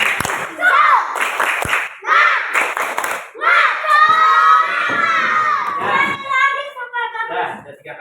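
Schoolchildren in a classroom shout and clap a rhythmic spirit cheer together, loud and close, with bursts of sharp claps between chanted shouts and a teacher's voice briefly heard.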